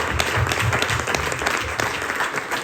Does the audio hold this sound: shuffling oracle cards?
no